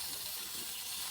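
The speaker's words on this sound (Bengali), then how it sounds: "এখন দিয়ে দিব পেঁয়াজ কুচি" Chopped onion sizzling in hot frying oil, a steady bright hiss close up and continuous through the brief moment.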